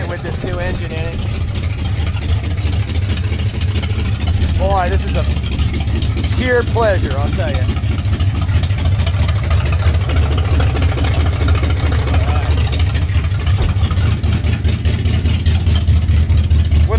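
A 1950 Ford coupe with a full-race flathead V8 idles and runs steadily from inside the car, a low, even rumble under a voice that talks briefly over it.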